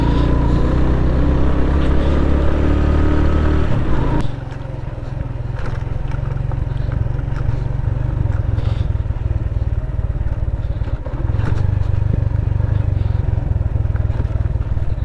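A vehicle grinds along a rough off-road track of rocks and mud above a drop on the way to Kumrat Valley after a flood, with a steady loud engine drone and constant clatter and rumble from the cabin, continuing throughout.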